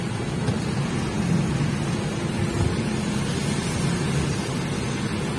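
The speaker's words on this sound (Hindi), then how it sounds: "ये देखो भाई मूसलाधार बारिश हो रही है धुआंधार" Heavy torrential monsoon rain pours down in a dense, unbroken roar with a deep low rumble, steady and loud throughout, with no talking.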